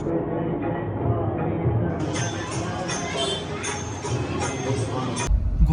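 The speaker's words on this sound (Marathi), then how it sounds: "मेट्रो गाइस गाइस मेट्रो गए" A metro train passes with a sustained rumbling roar and rising rail noise, while people nearby chat over it.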